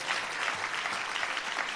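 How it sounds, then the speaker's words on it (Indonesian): A church congregation claps in praise to Jesus during a sermon, a dense, sustained burst of applause from many hands that fills the space evenly and briefly. "Oh, tepuk tangannya lebih dahsyat lagi buat Yesus Tuhan kita."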